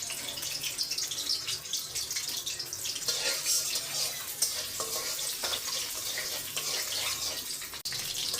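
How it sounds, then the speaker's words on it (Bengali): Garlic dropped into hot oil keeps up a dense, bright sizzle and hiss for several seconds, close and steady with faint stirring scrapes beneath it, no voices. "তেলটা গরম হয়ে গেছে, রসুন দিয়ে দেবো।"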